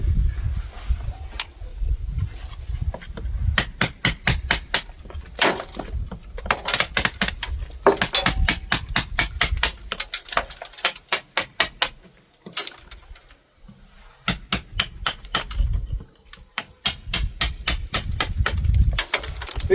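A hammer drives a chisel into soft render and pointing mortar on a stone wall in bursts of sharp, rapid metallic strikes, with short pauses between runs and gritty scraping under the blows, close up.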